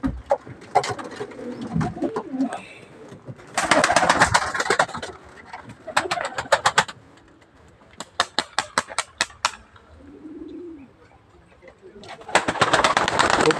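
Pigeons flap their wings in repeated loud bursts of rapid clapping wingbeats, with a short coo between bursts and quieter handling noise in the pauses.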